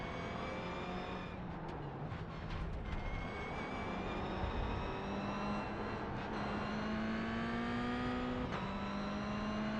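Toyota GR86 race car engines from iRacing at Okayama drone steadily throughout, with rising harmonic whines as cars accelerate and shift close by in a dense pack.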